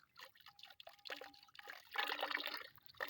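Running water splashes and trickles as a pig stomach is rinsed and scraped clean under a tap, the flow uneven and close, swelling louder toward the end.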